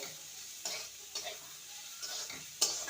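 Chopped onion sizzles in a pan for poha pulao, a soft continuous fry broken by several distinct stirring scrapes and clicks of a spoon against the pan.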